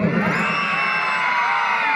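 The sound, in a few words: children of Green House shouting loudly at a sports meet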